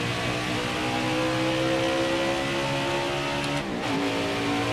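A NASCAR race car engine in a video game revs at high RPM, loud and sustained, its harmonic whine held steady before a quick dip and pitch shift near the end, with no talking over it.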